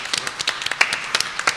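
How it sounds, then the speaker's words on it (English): A small group of people clapping for themselves at a live event. The claps are light and uneven, come in short scattered bursts, and sound close. "This is just going to be a recording of us applauding ourselves"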